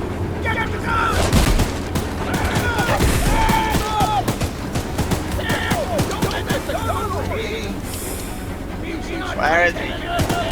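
Gunfire in the Choo Choo Charles video game, scattered shots and booms rising through loud game noise and excited talking that runs throughout.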